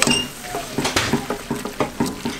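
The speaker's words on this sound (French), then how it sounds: "On va mélanger." A spoon stirs bean soup with thyme in a cooking pot, scraping and clinking against the metal in a quick, steady rhythm of about ten strokes, close and clear.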